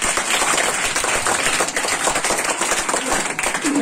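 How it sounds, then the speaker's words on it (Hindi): Hearty applause rises from an audience at a school Teachers' Day event. The dense, steady clapping holds for several seconds with no speech over it. "एक जोरदार ताली।"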